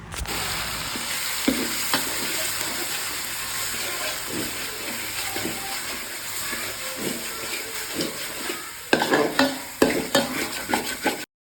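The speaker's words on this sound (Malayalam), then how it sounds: "ഇഞ്ചി വെളുത്തുള്ളി പേസ്റ്റ് അതിലോട്ടിട്ട് അത് നന്നായിട്ട് മൂപ്പിച്ചെടുക്കണം" Ginger-garlic paste fries in sunflower oil left from frying fish, a steady loud sizzle and hiss with scraping stir strokes throughout, growing busier with sharper spatters near the end.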